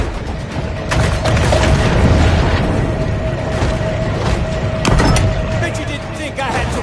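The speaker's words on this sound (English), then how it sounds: "Bet you didn't think I had torpedoes." Torpedo explosions in the video game Maneater, loud deep underwater booms and thuds rolling through a dense, rumbling mix, with sharper hits near the start and middle and a voice speaking over the action.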